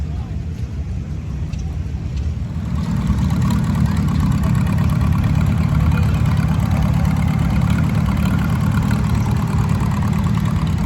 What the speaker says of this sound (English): This is a 63 Fargo 1-ton driven by Brad Eggum.